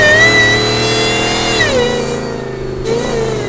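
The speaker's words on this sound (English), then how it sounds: "Shelby absolutely destroys the Raptor in intake and exhaust sound" A supercharged 5-liter V8 in a Shelby F150 pickup revs loudly and close up, a steady harmonic roar that rises and then dips through two swells with no talking.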